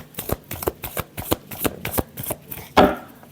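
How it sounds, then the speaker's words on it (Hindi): Tarot cards being shuffled by hand, a quick run of crisp riffling flicks and slaps at close range, ending in a louder final snap of the deck. "Last shuffle."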